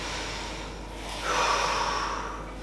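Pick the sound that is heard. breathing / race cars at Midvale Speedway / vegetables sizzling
breathing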